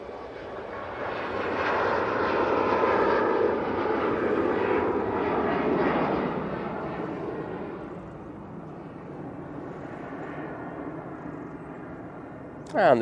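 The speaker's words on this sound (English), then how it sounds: "Ryanair 737 MAX 8 now going." Ryanair Boeing 737 MAX 8 departing Manchester Airport, its jet engines building to a loud sustained roar that peaks and then slowly fades as it climbs away, ending with a sharp click.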